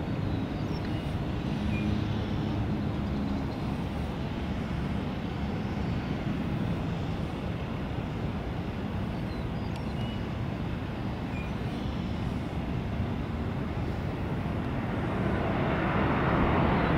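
A Southwest airliner takes off from a Tampa airport runway, a steady broad engine roar heard from a distance that holds level and swells louder near the end.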